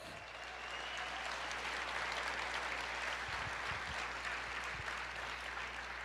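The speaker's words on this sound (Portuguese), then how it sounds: "Você pode aplaudir o Senhor e dizer: eu creio." A packed church congregation claps in a steady, broad wash of applause that swells in and holds for several seconds, fairly distant and even.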